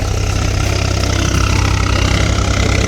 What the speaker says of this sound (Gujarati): ખેડ આવે છે ટ્રેક્ટર આવ્યું છે